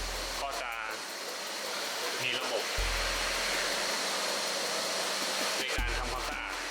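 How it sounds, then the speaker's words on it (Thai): Compressed air blasts powder off SLS-printed nylon parts inside a cleaning cabinet, a loud steady hiss with short pauses and restarts, while someone talks over it. "พ่นเพื่อให้ ผงที่มันติดอยู่ตาม ชิ้นงานเนี่ยมันออกไปนะครับ"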